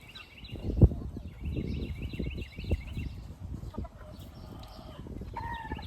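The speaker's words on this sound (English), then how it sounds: "Mr. Barrock, you can't beat those birds. They way bigger than you" Chickens cluck and squawk in scattered bursts, with a few sharper calls and thumps, fairly close by.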